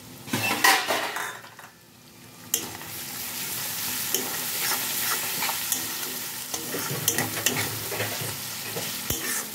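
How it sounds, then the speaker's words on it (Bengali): Half-ground green chili paste fries with raw peanut paste in a pan, sizzling steadily while a utensil scrapes and stirs with repeated clinks and scrapes against the metal. "এটাও 1 মিনিট মতো বাদামের সাথে ভেজে নেব"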